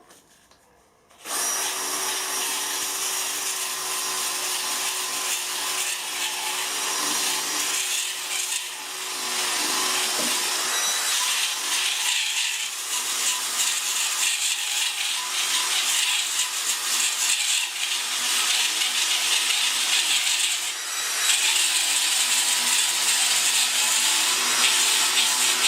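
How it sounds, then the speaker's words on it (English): A Scotch-Brite wheel polishes a metal casting, making a continuous loud abrasive whir and rub close by, with slight changes in pitch and pressure as the workpiece is moved against it. "Just a Scotch-Brite brush, that's all I'm using."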